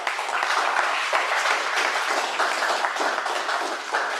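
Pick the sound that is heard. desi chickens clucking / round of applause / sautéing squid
round of applause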